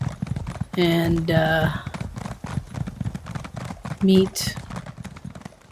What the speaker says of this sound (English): Alright, let's get on our horses.